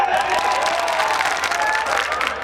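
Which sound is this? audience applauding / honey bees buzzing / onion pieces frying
audience applauding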